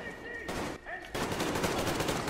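Gunfire in the video game Metro Exodus: a couple of sharp shots, then a dense, sustained burst of rapid automatic fire that stays loud to the end, with a voice faintly underneath.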